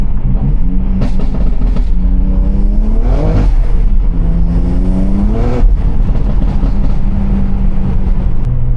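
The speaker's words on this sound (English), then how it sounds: "Forgot to tell you, I do have burbles, so y'all gonna hear these burbles." Exhaust burbles from a 700-horsepower BMW X3M crackle in short bursts over the engine's rising and falling revs, heard close and loud from inside the SUV.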